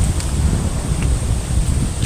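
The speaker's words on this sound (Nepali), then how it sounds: "हेर हावा कति राम्रो" Steady wind rushes and rumbles against the microphone beside a wide stretch of water near a bridge, with no voices, just a continuous low blustery hiss.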